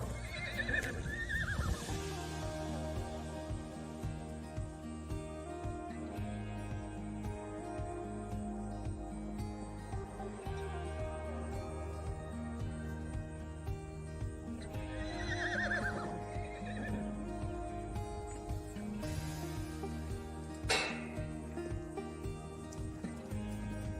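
Horses neighing at a mustang adoption yard: a few whinnies with falling pitch, one early and one around the middle, plus light hoof clops, all over a steady, sustained musical drone.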